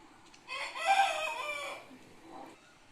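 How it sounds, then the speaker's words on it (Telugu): Rooster crowing in the morning in a village, a single drawn-out crow of about a second and a half, fairly close and clear over quiet surroundings, ending with a faint cluck. "మార్నింగ్ మార్నింగ్ లేపుతుంది అందరినీ కోడి"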